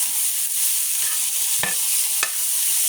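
Turkey chili ingredients brown and sizzle in a pan, a steady bright hiss throughout with a few soft stirring knocks, close and fairly loud, no talking.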